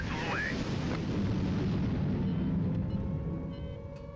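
A ballistic missile intercepted and exploding in Highfleet, a deep rolling boom with a brief crackle at the start, sustained rumble fading over a few seconds, with no talk.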